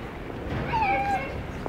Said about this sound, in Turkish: Kedi varmış bir de orada.